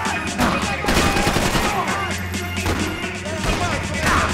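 Gunfire from Max Payne 3 in a nightclub, a dense crackling fusillade of rapid shots with bursts of machine-gun fire, loud and continuous throughout, with a voice talking faintly underneath.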